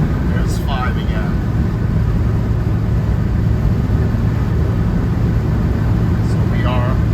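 A 1973 Alfa Romeo Spider engine drones steadily at speed while driving, a constant loud low-pitched hum mixed with road and wind noise, with brief faint voices over it.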